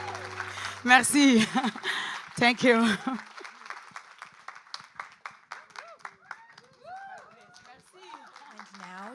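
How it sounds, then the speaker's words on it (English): Applause from a conference audience at a closing plenary session, clapping briefly after a singer's performance, mixed with spoken thanks and a sung or voiced tone over the start. "Please, a round of applause for yourself."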